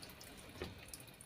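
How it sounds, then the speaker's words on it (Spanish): A washing machine fills with water for its rinse cycle after spinning out the soap, a faint, steady hiss of running water with a slight swell midway. "aquí ya terminó de centrifugar el jabón y ya va a enjuagar"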